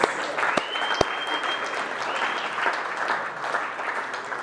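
A team audience applauds an award winner with brisk, fairly close clapping, a couple of sharp individual claps near the start and a whistle rising briefly above the crowd.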